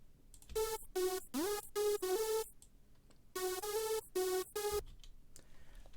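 A raw, unprocessed synth layer for a hardstyle lead, built in Serum from sine waves with detuned unison, plays bright buzzy notes in two short rhythmic phrases with a pitch glide, clear and alone.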